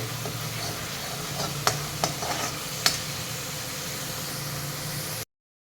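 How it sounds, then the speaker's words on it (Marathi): Onion frying in oil in a pan for Amritsari pindi chole, a constant moderate sizzle broken by a few distinct spatula scrapes and taps near the middle, then stopping abruptly, with no speech. "कांदा छान परतून झालेला आहे त्याला तेल सुटलेलं आहे"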